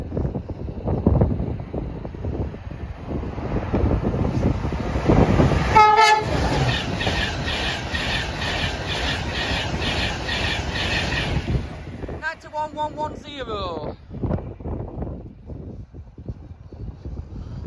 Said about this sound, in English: Here's train one. is a 91 as well.